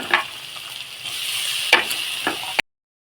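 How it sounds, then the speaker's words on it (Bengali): Carrots, green chillies and onion frying in hot oil give a steady close sizzle, with a few sharp stirring clinks and scrapes spread through the short stretch before it cuts off. "তেল গরম হয়ে গেছে তো আমি এখন গাজর কাঁচা লঙ্কা পেঁয়াজটা ভেজে নেবো"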